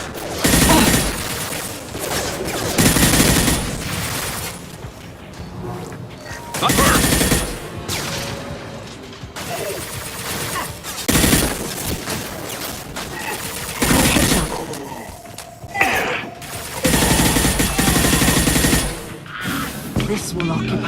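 Heavy gunfire in the video game Mass Effect 2, with repeated loud bursts of automatic fire and shots in clusters over most of the stretch, mixed with game voices and combat effects.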